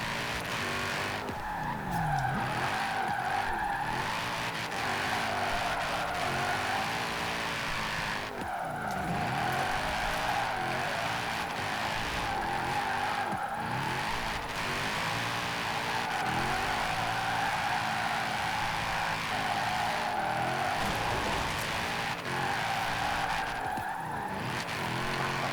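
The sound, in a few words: AMG GT R drifting with tire squeal in Forza Horizon 4 video game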